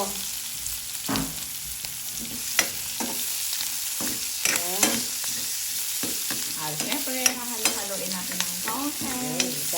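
Garlic and onions fry in a pan for an adobong sitaw dish, giving a steady loud sizzle with repeated scraping stirs and clanks of a utensil against the pan throughout.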